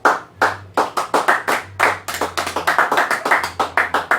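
Church congregation clapping for the Lord during a Spanish-language sermon, a close, loud burst of uneven hand claps that starts sparse and thickens into rapid overlapping clapping.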